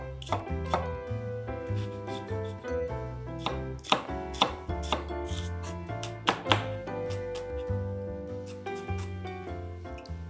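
A yellow onion being finely chopped with a knife on a board, irregular knocks and quick bursts of chopping strikes, close and clear, with a faint musical tone running underneath.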